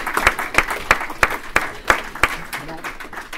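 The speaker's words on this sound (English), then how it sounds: "You can clap." Sparse, evenly spaced claps ring out from a small audience at a book launch for an economics textbook, about seven sharp hits in a slow rhythm over light room noise, with a voice faintly present.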